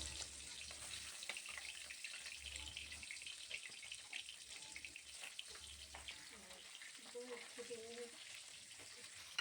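Tangra fish frying in hot mustard oil in a pan: a continuous crackling sizzle with sputtering spits, close and steady throughout, with a faint voice briefly murmuring underneath near the end.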